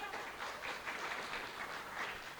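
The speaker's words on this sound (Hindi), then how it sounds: "एक बार तालियां बजा दो फटाफट से" Sustained applause from an indoor celebration audience, a dense, even wash of many hands clapping at moderate volume.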